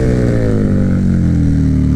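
A KTM Super Duke 1290 R motorcycle engine roars loud and close under hard acceleration, a dense, steady, growling drone with a quickshifter gear change, alone without voices.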